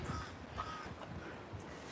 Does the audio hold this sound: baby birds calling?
yes